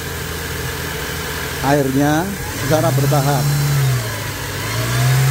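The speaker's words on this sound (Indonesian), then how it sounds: "Mesin dinyalakan 2000," Nissan X-Trail T30 engine running steadily at around 2000 rpm, a constant low hum that continues while someone talks over it.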